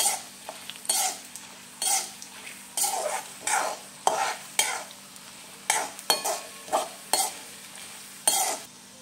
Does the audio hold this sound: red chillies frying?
yes